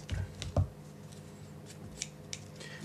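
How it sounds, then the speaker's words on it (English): Scissors cutting paper to shape a dragon's horn for a woven paper craft, several crisp snips close up, two sharper cuts early followed by lighter intermittent clicks and snips. "what we're going to do now is then cut these to make the horn on the dragon"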